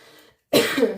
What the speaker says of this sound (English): Sorry, I've got a tickly cough.